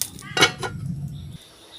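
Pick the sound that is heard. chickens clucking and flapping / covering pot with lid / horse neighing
covering pot with lid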